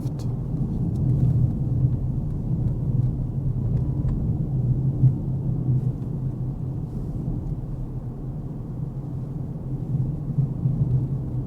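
A car engine drones steadily at low pitch through a downshift on an early-morning drive, a continuous close rumble with slight swells and no talking.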